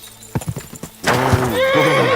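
A horse in the Kingdom Come Deliverance 2 video game clops along with a few distinct hoof beats, then lets out a loud, drawn-out neigh up close that whinnies on for about a second.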